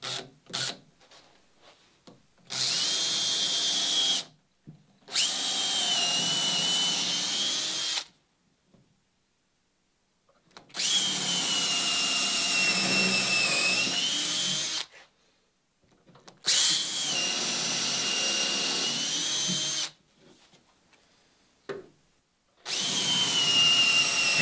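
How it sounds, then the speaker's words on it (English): Power drill driving screws into wood while fitting the inwales on a wooden Catalina Wherry boat: several long, loud whining runs of the motor separated by silent gaps, close by and with no talk. "I'll just switch to a longer bit for this screw"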